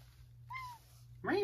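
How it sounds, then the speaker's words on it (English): Pet cat meowing indoors, two short meows close by, the second louder and rising, over a low steady hum. "you heard my cat here."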